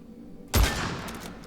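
A single sharp gunshot from a weapon in the video game Witchfire, loud and close, with a short ringing tail fading out after the blast.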